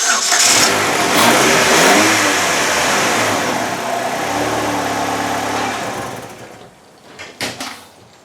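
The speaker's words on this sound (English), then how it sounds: "let's see if we can start this thing up now." A Chevrolet HHR demolition derby car's engine cranks and runs loudly with rough revving, then cuts out near the end, leaving a few brief knocks.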